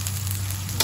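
Garlic frying in a pan for ginataang langka makes a brief, steady close sizzle with a low hum underneath and a slight crackling burst at the end.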